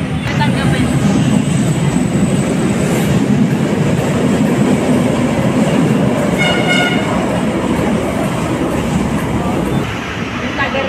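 A train rumbles and clatters past loudly as it arrives at a station in Manila, wheels clacking over the rails, with a brief high whistle-like tone and some faint voices.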